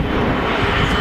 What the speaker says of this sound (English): 737 now rolling.